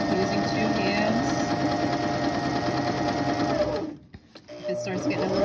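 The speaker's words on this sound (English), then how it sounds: "When you're sewing, you're gonna guide your hand, guide your fabric using 2 hands." A sewing machine stitching slippery satin fabric for a ruffle, running in a loud, steady whirring drone for several seconds, then briefly stopping before starting up again.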